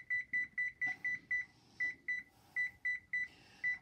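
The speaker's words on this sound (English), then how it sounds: "my timer." A kitchen timer beeping as it is set while roasted Brussels sprouts cook, a run of short, sharp electronic beeps at uneven intervals, close and clear with faint handling noise between presses.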